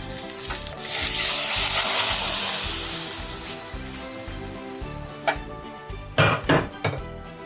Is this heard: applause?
no